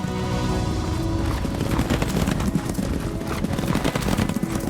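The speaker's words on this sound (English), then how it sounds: "is famous on social media for his full gallop, bareback rides on the beach" A horse galloping bareback at full speed on a beach in Morocco, heard as a dense, continuous run of loud, rapid hoofbeats with a steady drumming rhythm and no talk.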